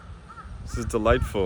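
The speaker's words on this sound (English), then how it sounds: "You can hear the birds chirping in the distance." Crows cawing at a Busan seaside during an evening walk at sunset. The harsh calls are faint and distant at first, then repeat more clearly under a person's speech.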